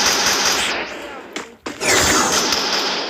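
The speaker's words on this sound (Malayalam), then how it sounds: "ആ വെടി എവിടത്തേക്ക് വന്നതെന്ന് എനിക്കറിയത്തില്ല" Gunfire in the Free Fire Max battle royale game, a dense burst of rapid shots that briefly drops out mid-clip and resumes, loud and close.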